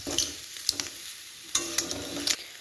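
Olives are stirred in a pan for olive jelly, with a faint sizzle under several sharp spoon scrapes and taps against the pan, spaced irregularly.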